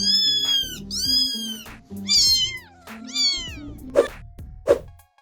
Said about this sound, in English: Here it is, it's a cat.